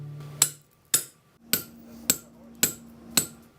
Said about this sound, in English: I'm going to hammer it through